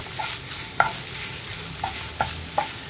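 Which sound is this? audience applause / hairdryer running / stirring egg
stirring egg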